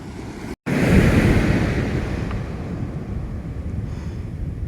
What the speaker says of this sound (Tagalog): So ayan, medyo malakas yung alon.